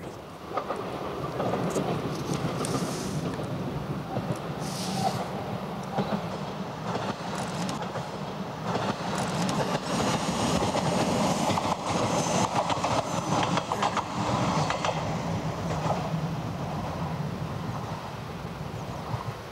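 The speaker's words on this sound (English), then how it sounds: "The trains emerge at tunnel end" A train runs along a Peak District railway near a tunnel mouth, a loud sustained rumble with rhythmic clattering of wheels over the rails. It stays close and fairly even for the full twenty seconds, with no talking.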